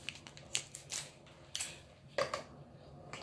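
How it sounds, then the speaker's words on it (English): Scissors snip several times nearby in short, sharp, irregular cuts, heard alone in a quiet room while hair bleaching is being prepared. "I need my scissors."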